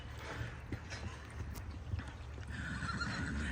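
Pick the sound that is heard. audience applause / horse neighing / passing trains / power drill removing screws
horse neighing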